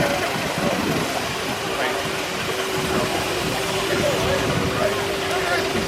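Miniature steam engines circle the main arena in a steam parade at the Malpas Yesteryear Rally, making a steady outdoor rumble with a faint sustained whistle-like tone, while indistinct voices carry across the open ground.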